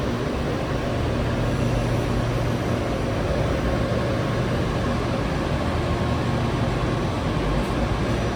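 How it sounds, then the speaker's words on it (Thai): A steady, loud rumbling roar of a train moving close by in Thailand, continuous throughout with no voices. "รถไฟพี่น้อง"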